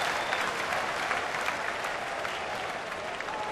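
A baseball stadium crowd at a Pittsburgh game cheers and applauds steadily and loudly throughout, a broad sustained roar with no one speaking over it.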